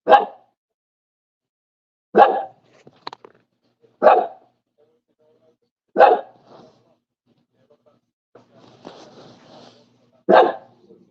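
A puppy giving loud, sharp single barks spaced about two seconds apart indoors, with quiet gaps and some faint shuffling between them.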